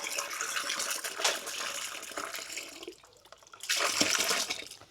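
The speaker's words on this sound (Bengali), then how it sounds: "এই জন্য আমি পানি নিয়ে নিচ্ছি।" Water pouring from a tap into a container, a steady splashing gush that dips briefly and then comes back stronger, close by.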